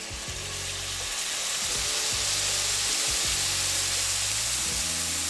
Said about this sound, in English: Now adding a little bit of butter into a pan, and then we're just gonna add the whole dough.